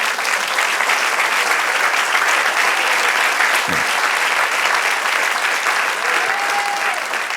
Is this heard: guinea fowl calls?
no